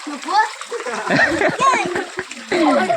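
Water splashes in a cold village river in Ratnagiri, Konkan, with close sloshing bursts while children's voices talk and shout over it.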